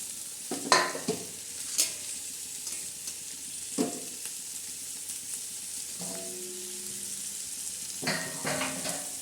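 Simple biryani pulao with tomato and green chili being stirred and sautéed in a pan, with several separate scraping stirs over a soft, steady sizzle and no talking.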